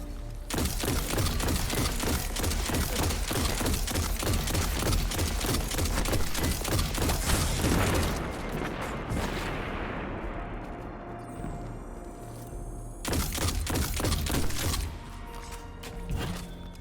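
Survivor's Epitaph scout rifle firing in the video game Destiny 2, with loud, rapid, evenly spaced shots in sustained bursts, a pause with lingering rumble and debris, then another volley.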